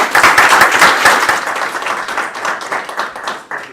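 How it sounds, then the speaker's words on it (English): A round of applause at a planning board meeting, a loud cluster of individual claps from a modest group, starting strong and gradually thinning out over nearly four seconds, with distinct hand strikes audible. "maybe a round of applause for Sean's and gratitude would be in order"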